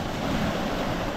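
Rough, churning sea at Gorai during heavy rain roars as a continuous, loud wash of surf with wind buffeting the microphone, and no voices are heard.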